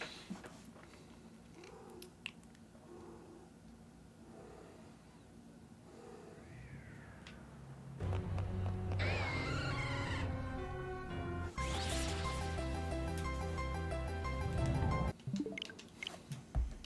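Indoor cat sounds from one of three house cats: faint scattered meows early on, then louder drawn-out yowling and caterwauling calls that rise and fall in a tight, close string.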